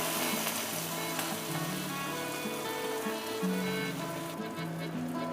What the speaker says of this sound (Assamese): তেলখিনি গৰম হৈ গৈছে আৰু এতিয়া মই ইয়াত দিম জলকীয়া আৰু ইয়াত মই এতিয়া কঁঠালৰ গুটিকেইটা দি দিম।